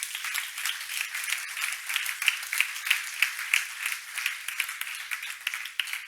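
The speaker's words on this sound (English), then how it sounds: "One more round of applause to our speakers from this morning." Applause from a conference audience at a sanitation meeting session, a steady wash of many hands clapping for about six seconds with a few sharper claps standing out, moderately loud and fairly close.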